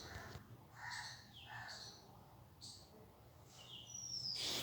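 Birds calling from surrounding trees, a mix of chirps and occasional crow caws scattered through the background, fairly faint and distant, with no voices present.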